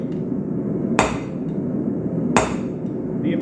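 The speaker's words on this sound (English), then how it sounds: "using the bottom fuller, I can use it almost like a cross-peen hammer" Two sharp, ringing hammer blows on metal over a bottom fuller during forging, spaced about a second and a half apart, loud and close over a steady low workshop rumble.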